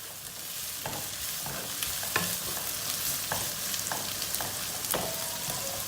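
Peppers sizzle in a hot pan while being stir-fried, a constant close crackling hiss punctuated by repeated scraping taps of a utensil stirring against the pan.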